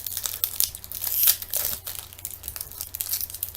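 Plastic wrapping on a Walking Dead trading card box is pulled and torn, making close, irregular crinkling and crackling bursts with a louder rip in the middle, with no voices.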